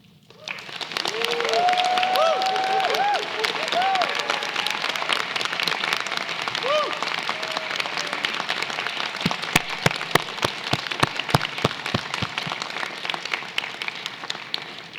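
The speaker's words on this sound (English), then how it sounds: "Please join me in giving a round of applause to all of our students." Applause from an audience at an Asian Student Celebration for the Class of 2025 students: dense, steady clapping fills the room throughout, with a few distinct sharp claps standing out near the end.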